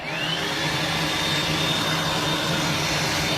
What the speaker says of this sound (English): any of these ships that still have this for a hairdryer